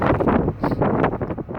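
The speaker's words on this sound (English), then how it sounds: "We'll get the wind noise" Strong gusts of wind buffet the microphone out in the Nevada desert by a reservoir, a loud, continuous low rumble that swells and dips in uneven pulses.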